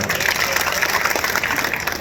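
A crowd at a political speech in Jintur claps steadily in a dense, continuous wash of applause that holds even and loud from start to finish.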